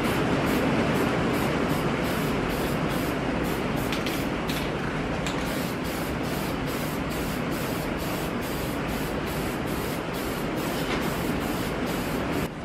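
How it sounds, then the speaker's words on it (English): An aerosol can hisses continuously as paint is sprayed onto a repaired jackknife trailer part, a steady loud spray with faint regular clicking pulses throughout and no talking. "I'm going to go ahead and put a coat of paint on this just to make sure that it don't rust anymore"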